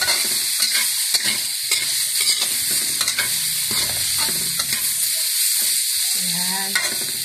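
Fish and carrots being stir-fried with sweet chili sauce in a hot pan, with loud continuous sizzling and repeated scraping and clanking of a utensil stirring the food, close up and without speech.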